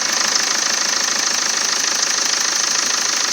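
A steady, close Peugeot 2.0 HDi diesel engine with a leaking injector runs with a fast ticking, knocking clatter over a constant mechanical whine, loud and unbroken throughout.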